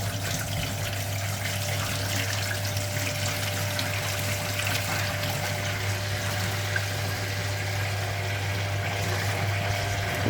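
A Hoover Automatic 820 washing machine pumps out its water, a loud steady motor hum with continuous gushing flow running unchanged throughout, no voices.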